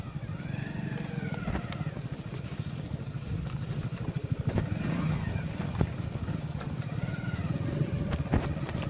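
A Hero Splendor motorcycle rides along with a steady, continuous engine drone and road noise, close to the listener, with faint wind and small bumps throughout and no talking.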